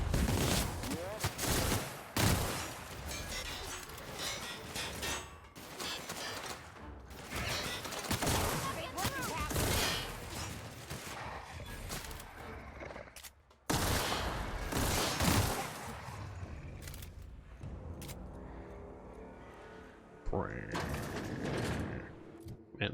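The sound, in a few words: gunfire in the video game The Outer Worlds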